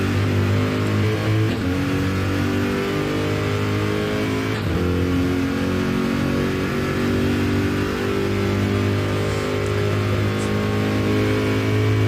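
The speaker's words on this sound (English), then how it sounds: "Accelerating down the straight, approaching the second chicane." GT3 Cup race car in a racing video game accelerating down a straight, its engine a loud, steady, continuous drone with strong harmonics that climbs in pitch, broken by brief gear-shift dips.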